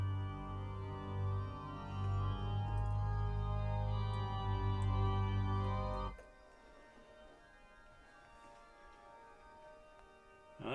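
A church organ in a cathedral plays a tune, with full, sustained chords that cut off sharply partway through, leaving a quiet reverberant room tail.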